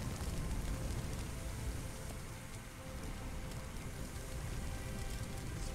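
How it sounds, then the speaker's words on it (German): Water hose spraying onto a fire in the Firefighting Simulator game, a steady loud rushing hiss like heavy rain that runs unbroken throughout. "Und müssen dann mit dem Schlauch das Feuer löschen."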